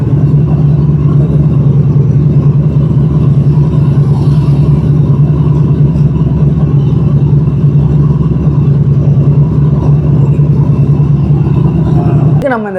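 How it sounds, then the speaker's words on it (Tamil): Royal Enfield motorcycle engine running steadily in a repair garage, a loud continuous low thump with a constant pulse throughout and no clear rev swell, cutting off near the end. "இப்போது பைக் ஸ்டார்ட் பண்ணி காட்ட பாருங்க."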